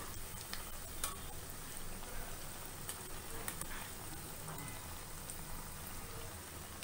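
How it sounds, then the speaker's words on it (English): Aloo and kala chana cutlets frying in oil in a pan, giving a steady, even sizzle that continues unbroken at moderate volume, with no voices. "Let us adjust the flame and fry them."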